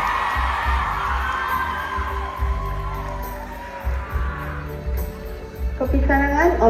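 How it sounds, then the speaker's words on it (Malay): Audience at a state-level Unduk Ngadau pageant cheering and whooping for a contestant, a lively crowd roar with shouts and a voice over the top, swelling louder toward the end. "Tepukan Cik Christine John Charles."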